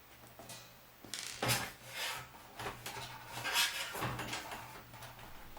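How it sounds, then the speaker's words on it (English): Screws are worked out of the metal case of an Onkyo receiver, giving soft scraping turns and light metallic rubs. The sounds are close, quiet and irregular, over a faint steady hum. "As I remove these 8 screws from the case"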